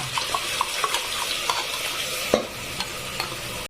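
Biryani masala mixed with yogurt, turmeric and salt cooks over browned onions in a pan, giving a continuous close sizzle with light, regular spatula taps and one louder scrape, and no voices.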